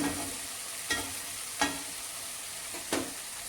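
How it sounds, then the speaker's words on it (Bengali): Spice paste frying in oil in a pan, with a little water added, for a Bengali boal fish paturi. A steady faint sizzle runs throughout, broken by three brief scraping stirs. "ভালো করে মশলাটা ভাজা হওয়ার জন্যে আমি একটু জল দিয়ে ভালো করে নাড়াচাড়া করছি"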